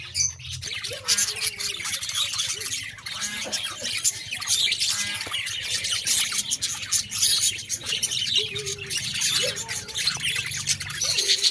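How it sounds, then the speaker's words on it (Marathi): A dense, steady chorus of birds chirps and squawks continuously, with many calls overlapping nearby and no talking. "तर तुम्हाला पक्षी दाखवते."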